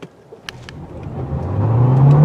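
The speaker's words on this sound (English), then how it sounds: "Ooh, got some wheel spin there." A 2021 Hyundai Sonata Hybrid in sport mode accelerating hard with wheel spin, heard from inside as a rising engine and motor whir that swells steadily louder, with a few faint clicks at the start.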